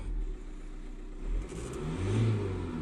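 Seat Alhambra 2.0 TDI BRT diesel engine, freshly started and still cold after an injector repair, running steadily with its turbo whistling; a close, continuous rumble with a few slight swells in revs.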